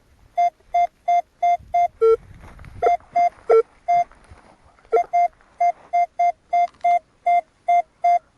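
A metal detector sweeps over a field of old village gardens, giving a steady train of short, evenly spaced beeps, with a few lower-pitched tones and a brief rustle of movement partway through.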